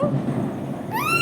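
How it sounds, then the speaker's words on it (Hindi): Firecrackers bursting during Diwali celebrations, a continuous rumbling wash of blasts followed near the end by high rising whistling tones, loud and steady throughout. "मम पटाखे फोड़ रहा है मिठू"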